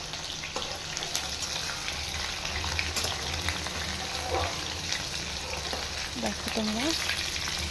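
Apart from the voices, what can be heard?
chopped onions frying in oil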